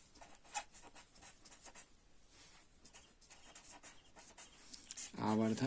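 Chalk or marker scratching across a board during a physics lesson, a series of soft, intermittent strokes at close range under a quiet room tone.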